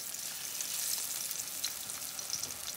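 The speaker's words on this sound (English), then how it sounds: "I'm gonna put them into the frying pan to cook for a little." Flour-dusted pieces of grey snapper frying in a pan give off a steady, soft crackling sizzle with scattered faint pops, heard close and alone.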